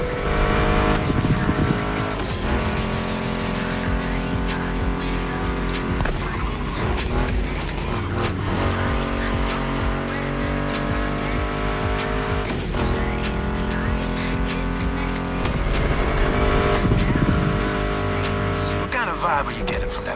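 Roaring muscle car engines, including a Mustang GT, race at full throttle with tire squeals in The Crew Motorfest, blended with a loud driving music track throughout.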